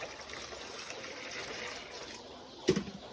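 Water trickles softly into a container to mix a live vaccine for chicks, a faint steady pour close by that ends in a short louder splash.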